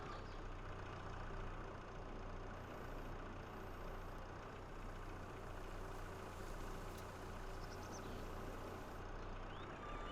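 A truck engine idles with a steady low rumble and hum, faint and continuous throughout, heard outdoors in the wilds with no talk.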